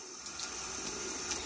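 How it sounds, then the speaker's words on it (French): A cascade-style bathroom faucet, mounted high above a bucket space in a shower room, runs with a steady, close, continuous splash and rush of water throughout, with no talking. "Et le fameux robinet cascade que j'ai pris sur Temu"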